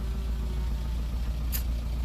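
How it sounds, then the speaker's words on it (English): A Nissan Figaro sits idling after running for half an hour with its oil now hot. The engine gives a steady low rumble, and a brief high click comes near the end. No one speaks over it. "our poor little Figaro has been idling here for a good half hour"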